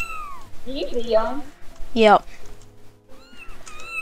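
A cat meows twice, close and clear, with a drawn-out cry followed by a sharper, shorter one, while people talk nearby.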